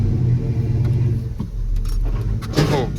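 A Chevrolet C10 barn-find pickup engine runs steadily at close range with a low rumbling idle, a brief rev rising near the end and light jingling of keys over it.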